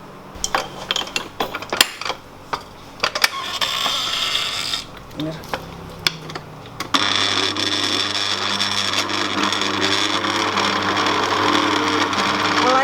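An electric mixer beats lapis legit batter at medium speed: first scattered clinks and taps of bowl and utensils, then the motor starts and runs as a steady, loud, droning whir.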